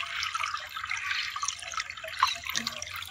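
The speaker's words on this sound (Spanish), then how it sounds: "Linda fuente de agua natural." Clear water trickling and splashing from a natural spring beside the Tecolostote river, a close, continuous bubbling with small drips throughout.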